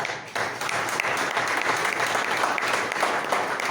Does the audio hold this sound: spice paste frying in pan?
no